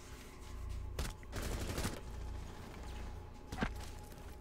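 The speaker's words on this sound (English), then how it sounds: "I just shotgun the both of them at once." Sharp shotgun blasts in Rainbow Six Siege, three loud reports spread unevenly among noisy rattling gunfire, close and punchy, with no talk.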